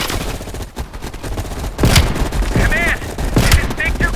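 Gunfire in Call of Duty Black Ops Cold War sounds as a continuous battlefield clatter of distant and mid-range shots, with several louder cracks, under game voices and radio chatter.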